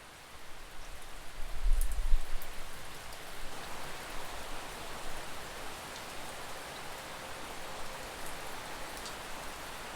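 Steady rain falls on a home on a rainy day, a dense, even hiss that swells briefly near the start with a low thump, then settles into a constant wash with no voices.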